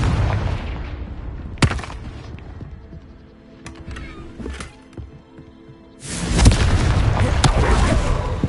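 A Confringo fire-blast spell from Hogwarts Legacy on PS5 goes off as a sharp crack, followed by a loud, sustained roaring burst of explosive noise near the end, with earlier scattered impacts and rumbling in between.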